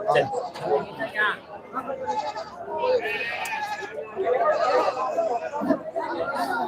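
Young goats bleat over steady crowd chatter at a Friday goat market in Ettayapuram. Nearby voices talk throughout while the bleats rise and overlap.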